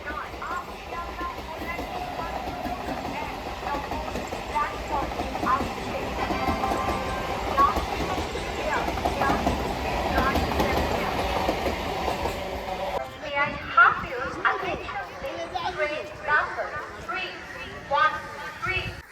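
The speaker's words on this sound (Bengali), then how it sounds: "চার নম্বর প্ল্যাটফর্মে ঢুকছে শিয়ালদা লোকাল" A Sealdah local train rumbles and clatters steadily into platform four at Bidhannagar station, Kolkata, during rush hour, wheels clacking, with a crowd murmuring and someone talking over the noise.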